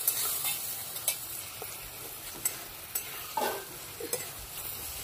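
Tilapia fish curry cooking with spices in a pan, a gentle background sizzle punctuated by repeated sharp stirring scrapes and taps every second or so, close and moderately loud, with no speech.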